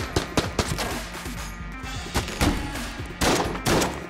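Rapid gunfire erupts in the video game Enter the Gungeon, a loud, dense series of sharp shots in quick bursts with brief gaps between them.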